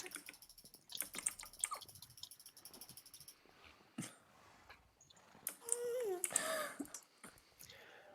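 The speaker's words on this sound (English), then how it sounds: "I think someone's got a noisy keyboard" Quick keystrokes on a noisy computer keyboard come through faint clicks and taps, in irregular bursts, mixed with other soft game sounds in the background.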